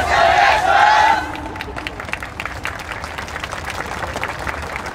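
A festival crowd at Nippon Domannaka Matsuri in Yaba Park cheers a dance team: a loud burst of shouting and cheers in the first second, then sustained applause and scattered clapping with crowd noise.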